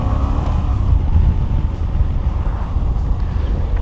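A Moto Guzzi adventure motorcycle pulls away in second gear, with a loud, steady low engine drone and rumble close by, plus wind noise.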